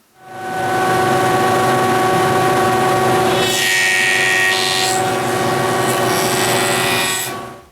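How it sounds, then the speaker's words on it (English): A jointer planer runs with a loud, steady motor drone while it cleans up the sides of a wooden glue-up. A harsher cutting whine rises midway as the wood passes over the blades, then the drone continues until the machine winds down. "we're going to take it over to the jointer planer and we're going to clean up two sides of this glue up"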